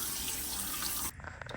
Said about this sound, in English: Rinsing it a little bit with cool water.